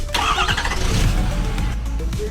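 A car engine on an Icelandic road trip cranks and catches, then settles into a loud, steady running rumble close by, with no talk over it.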